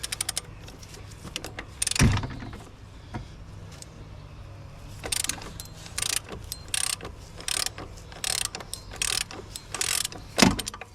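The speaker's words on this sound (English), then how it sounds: "We shall get our 18mm socket." Ratchet with an 18mm socket tightening an engine mount nut on a Range Rover Evoque, producing bursts of rapid clicking in several separate runs, with a couple of louder knocks in between.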